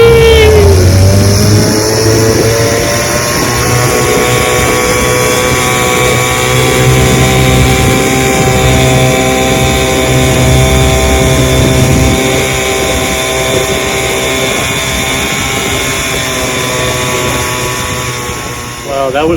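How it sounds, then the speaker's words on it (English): A 1957 Evinrude 7.5 HP outboard motor runs steadily and loudly up close, its buzzing drone shifting pitch slightly as the boat moves, with a voice occasionally over it. "Well, that was fun running that outboard motor."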